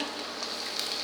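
Chopped ginger and garlic sauté in hot oil in a pan for toor dal fry, giving a continuous close, bright sizzle with small crackling pops and no speech.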